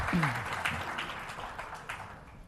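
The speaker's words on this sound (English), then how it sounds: "May I request a huge round of applause to you for the Managing Director of MUSI, MRDCL" An audience at a government presentation event applauds, a moderate clatter of clapping that gradually thins out, with a voice briefly heard at the start.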